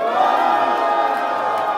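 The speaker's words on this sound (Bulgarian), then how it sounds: "Всеки, който мисли, че Стиви спечели," A live audience at a freestyle rap battle championship semifinal shouts and cheers together in a dense, sustained roar, voting for Stivi, loud and steady throughout with no pause.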